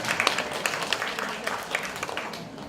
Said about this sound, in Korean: 여러분 큰 박수로 맞이해주시면 감사합니다